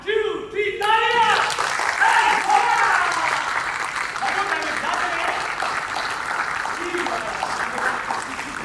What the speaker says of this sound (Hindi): 1 2 3 तालियां।